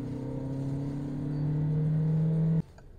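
A radio-controlled car's motor hums steadily at close range while driving over potholed streets in Łódź, its drone rising slightly in pitch before cutting off abruptly near the end.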